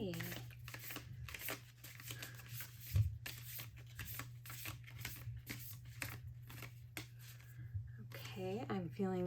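A deck of Lover Oracle cards is shuffled by hand in repeated quick riffling bursts, close and crisp, under a steady low hum while someone speaks.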